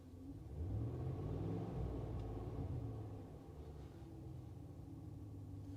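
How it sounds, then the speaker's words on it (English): A Ram 1500 pickup engine with a cam sensor fault gets a brief rev. The low rumble rises in pitch, holds, then settles back to a steady idle, heard close and without talk. "So let's give it a little rev."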